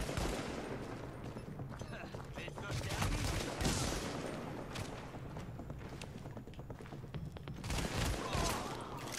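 Rapid, dense gunfire bursts rattle through a multiplayer firefight in The Division, sustained and loud with metallic clicks, while a player's voice talks over parts of it.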